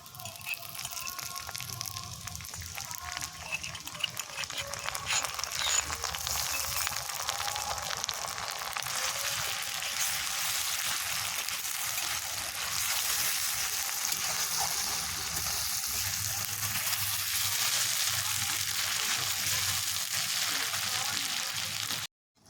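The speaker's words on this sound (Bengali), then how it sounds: "পেঁয়াজটা ভাজা ভাজা হয়ে গেছে এবার আমি দিয়ে দেবো কুটে রাখা আদা রসুনের পেস্ট" Onions frying in a pan for a home-style desi chicken curry as ginger-garlic paste goes in, a steady dense sizzle running throughout with occasional stirring clinks, close and fairly loud.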